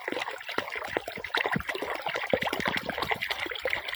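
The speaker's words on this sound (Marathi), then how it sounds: "इकडे धबधबा पण आहे, हे बघा पाणी वरून येत आहे।" Water tumbles from a natural waterfall beside a broad river, giving a continuous close splashing and gurgling with irregular splatters throughout, with no voices.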